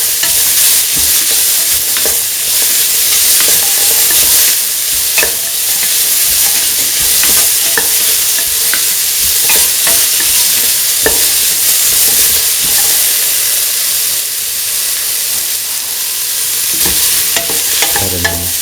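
Tomato pieces are stirred into lentil carrot rice in a hot pan, a continuous close sizzle with repeated scraping strokes of a utensil, no voices.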